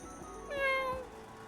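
A person imitates a cat's meow with one drawn-out, clear vocal meow rising and falling over about half a second, close and alone against quiet background.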